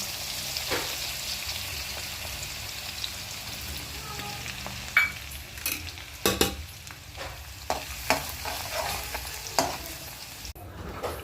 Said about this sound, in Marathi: आता आपण तेलामध्ये लसूण टाकून घेऊ।